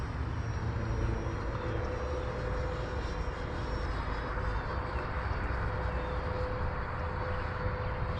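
An L-39 jet's engine drones steadily from inside the aircraft during landing practice, a loud, constant roar with a faint tonal whine and no talking.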